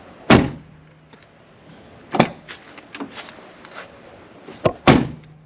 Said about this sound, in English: I'll give you a before and after door close.